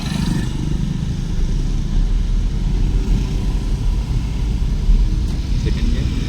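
A car engine rumbling and pulling away during a driving lesson, a steady low drone with an instructor talking over it.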